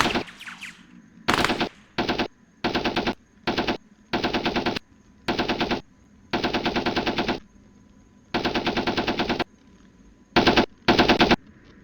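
Bursts of aircraft machine-gun fire in the Arma 3 Flying Legends mod, about a dozen rapid rattling volleys of varying length with short silences between them, close and sharp, with no speech.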